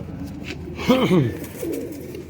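Banded (patti wala) high-flying pigeons coo nearby: two throaty rolling coos in quick succession, followed by a softer, lower coo, over a faint background hum.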